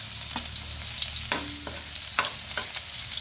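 Garlic sizzling in hot oil in a pan for pork adobo, a steady close frying hiss punctuated by a few sharp scrapes and clinks of a utensil stirring, with no speech.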